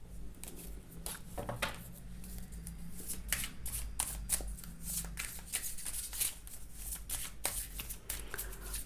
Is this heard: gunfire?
no